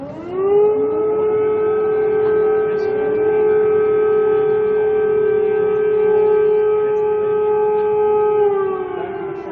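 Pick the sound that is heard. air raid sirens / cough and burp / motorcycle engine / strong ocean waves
air raid sirens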